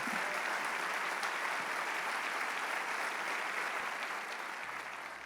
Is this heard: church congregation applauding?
yes